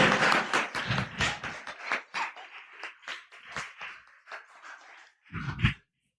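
Scattered applause from a small audience welcoming a presenter, with sharp separate claps tapering off, then a short loud whoop close by.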